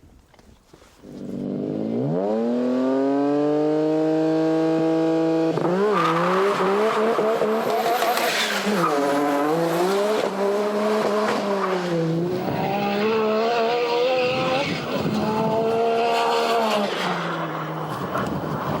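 A tuned 1000 bhp Nissan Skyline R33 GTR accelerates hard down a drag strip, its loud engine note climbing steadily through the gears with sharp shift breaks and a sustained roar close to the listener.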